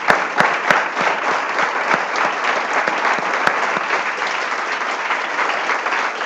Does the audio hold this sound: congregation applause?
yes